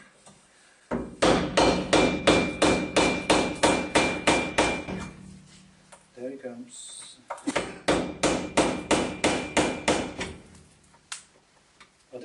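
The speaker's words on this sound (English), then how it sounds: "let's see what happens if we bang our hammer" A hammer repeatedly bangs on a rusty front suspension part of a Messerschmitt held in a vise, two bursts of loud, evenly spaced metallic strikes separated by a short pause, with a brief spoken remark.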